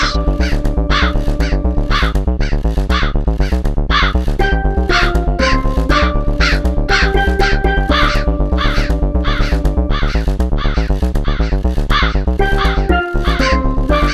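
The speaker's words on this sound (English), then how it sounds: "and we have the crow" A crow cawing sample loops through a live-coded electronic music session, with repeated caws riding over a dense, steady beat of bass line, steel drums and guitar for the full stretch.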